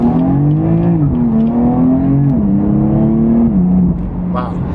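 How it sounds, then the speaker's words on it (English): A BMW M4 CS accelerating on a highway: a loud cabin-side engine drone that rises in pitch through the gears with short drops at each shift, steady and close, then easing off at the end. "and we'll give it some acceleration"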